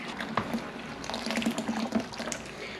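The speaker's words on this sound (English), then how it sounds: "Now that our water is at 161, we're going to go ahead and add it to the mash tun and get this thing mashed in." Hot brewing water at 161 degrees pours into a mash tun for a session IPA, a steady, close splashing and gurgling stream of liquid with no talking.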